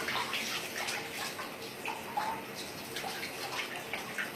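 Shower water runs steadily and splashes while someone rinses cleanser off their face, a close, continuous wet hiss with small splattering bursts and no talking.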